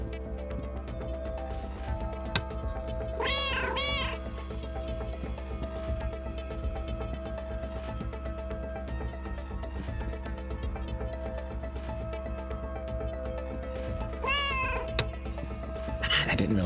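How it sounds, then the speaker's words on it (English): Cat meows from the video game Schrodinger's Cat Burglar, two short bursts of meowing near the start and end over a steady game music backdrop. "You can stop and meow whenever you feel like."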